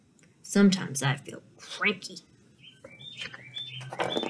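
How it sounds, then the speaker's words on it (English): Small birds chirp and tweet in short high bursts, faint and distant, after a person speaks a short sentence nearby. "Do you hear the birds outside? I think the birds are feeling happy because I hear them tweeting."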